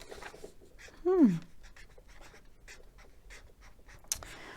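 Pen scratches on paper come in soft, quick strokes as a word is written, close but faint, with a brief vocal-like sound partway through.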